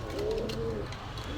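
Pigeons at a bustling pigeon market in Gollamari, Khulna, giving soft, low, throaty coos close by against a busy background murmur.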